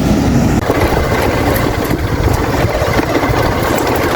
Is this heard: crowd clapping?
no